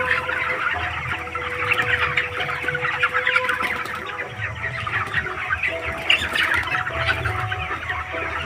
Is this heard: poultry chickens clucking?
yes